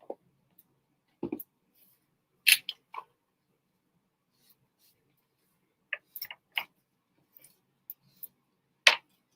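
Scissors trimming excess paper in a journal craft, a series of short, sharp snips and clicks scattered with pauses, close and quiet against near silence.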